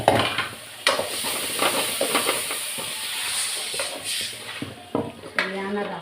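Bitter gourd fries in a pan with a steady sizzle and hiss, broken by stirring clatters and a few louder scraping bursts near the end.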